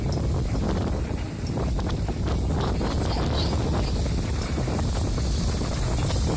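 A sailboat under way off the Algarve coast, with strong wind buffeting the microphone and a steady rush of water along the hull, loud and continuous throughout.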